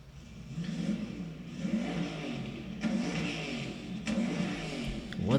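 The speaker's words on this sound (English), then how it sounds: "who's revving that, bro?" A car engine outside revs repeatedly in surges, heard muffled and at a distance through a wall, rising and falling in a rumbling, steady drone.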